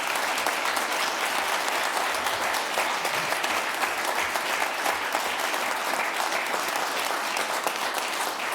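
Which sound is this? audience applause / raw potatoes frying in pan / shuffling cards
audience applause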